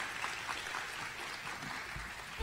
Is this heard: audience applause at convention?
yes